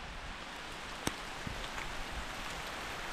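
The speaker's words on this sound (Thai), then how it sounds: "ฝนมาแล้วฝนมาแล้ว" Rain falls in a forest near a small hut, a steady hiss of drops on leaves and surfaces with a couple of sharper single drips standing out, even and fairly close throughout.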